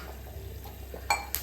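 Fried rice with cumin, cinnamon and large cardamom is stir-fried in a pan, producing a faint low sizzle with soft stirring and a couple of sharp metallic clinks of utensil on pan near the end.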